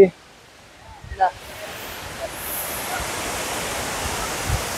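Hogenakkal Falls rushing below a bridge makes a steady, broad roar that builds after a few soft handling bumps and then holds evenly.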